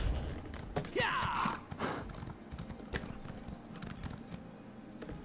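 Horse hooves clip-clop in Elder Scrolls Online, a steady near trot running through the whole passage with a brief whinny-like squeal early on, over ambient game sound and no talk.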